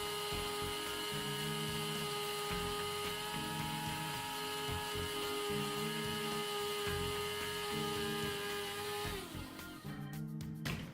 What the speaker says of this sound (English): I grind with a dry mill or coffee grinder or spice grinder.